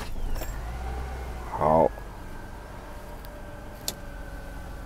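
A cold Mercedes W126 300SEL in near-freezing weather cranks briefly, a loud grinding whir of under a second, then settles into a steady low idle hum; someone speaks briefly beforehand.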